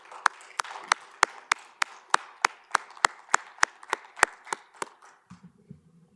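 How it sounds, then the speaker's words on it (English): Applause at the close of a city council study session, heard as a sparse run of about fifteen sharp, evenly spaced claps from a small group, moderately near, fading out at the end with a faint low murmur. "we can just give her a round of applause"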